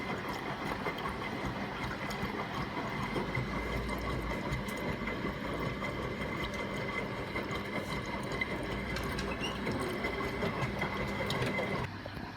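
A Bush F721QW washing machine in its second rinse gives a steady mechanical churning with faint ticks and rattles, moderately loud and continuous with no talk.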